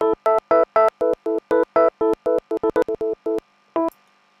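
Chopped, gated stutter effect on a track built in Reason: rapid rhythmic bursts of a tonal sound cut into short evenly spaced blocks with abrupt silences between them, loud and alone, ending after a final isolated burst.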